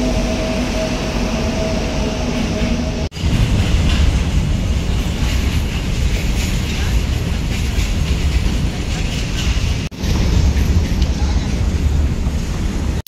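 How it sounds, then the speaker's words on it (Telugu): A train rolls steadily along a railway track in Anantapur near an underpass construction site, a loud continuous rumble with wind buffeting, two brief dips where the noise momentarily drops. "ట్రైన్స్ అయితే మూవ్ అవుతున్నాయండి."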